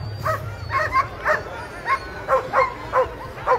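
Sled dogs at the Fur Rondy Open World Championship race in Alaska bark and yip repeatedly in a steady, excited series over a constant crowd and outdoor rumble.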